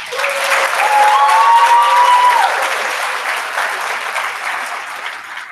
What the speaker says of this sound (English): please join me in giving these two deserving graduates a big round of applause.